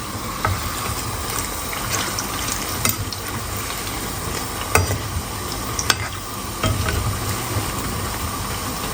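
Potato bhaji sizzle steadily in hot frying oil, a close, continuous crackle with occasional sharper pops and the faint scrape of stirring throughout.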